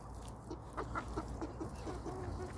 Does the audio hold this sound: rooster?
yes